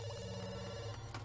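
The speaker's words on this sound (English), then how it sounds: "Phone is ringing." A telephone rings in a house in the life-simulation game The Sims 2, a steady electronic trill heard clearly against a constant background tone.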